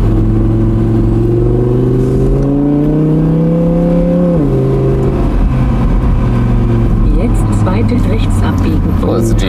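A 2017 Audi R8 Spyder V10 with 540 hp accelerates off a motorway, its engine note climbing loudly and steadily, dropping at a gear change, then pulling strongly again, heard close from inside the car.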